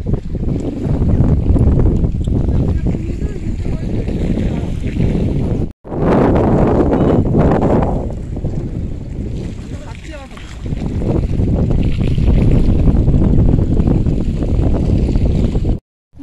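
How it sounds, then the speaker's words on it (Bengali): Steady wind blows by a riverbank, buffeting the microphone in loud rushing gusts with a couple of brief dropouts; a voice speaks faintly beneath it. "মিষ্টি হাওয়া বয়ে যাচ্ছে"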